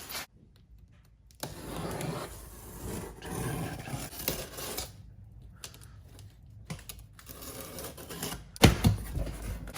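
Razor blade slitting open a cardboard box holding a rare intake for a 4.6 2V engine, heard as scattered scratchy scraping and tearing bursts at close range, with a sharp louder crack near the end.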